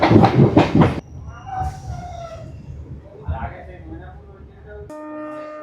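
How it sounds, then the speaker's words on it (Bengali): Passenger train 68096 on the Bankura–Jayrambati line runs through jungle at night, opening with a loud rumble that settles into a quieter rolling clatter, followed by a faint rooster-like call and a steady tonal hum near the end. "জঙ্গলের মধ্যে দিয়ে ট্রেন চলছে"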